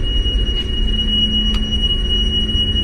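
A ship's alarm buzzer sounds aboard a vessel as a loud, continuous high-pitched tone over a low engine-room rumble, with a couple of brief clicks and no voices.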